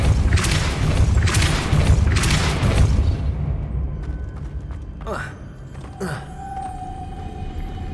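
Depulso spell cast in Hogwarts Legacy, heard as a few heavy booming whooshes early on, followed by softer creaks, rising swoops and a sustained tone, with a voice in the game mix.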